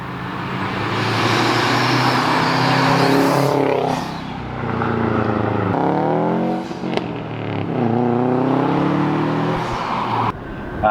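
A 2009 Subaru STI hatchback with an SPT exhaust and catted downpipe revs repeatedly, its engine climbing and falling in several loud pulls with brief pauses between, close by and with no talking.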